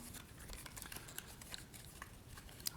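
A phone charger for a ZUK Z1 smartphone is unpacked, with quiet close crinkles, small plastic clicks and handling rustles scattered across a few seconds.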